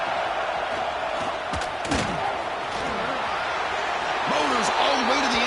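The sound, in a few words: stadium crowd cheering at LSU vs Texas football game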